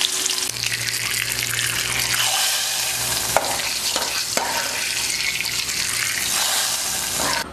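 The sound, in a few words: tempering poured into sambar, sizzling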